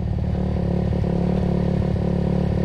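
A motorcycle rides along a potholed, slippery village road wet from rain, its engine running with a steady, close-up putter and faint rattles and clatter from the bumpy surface.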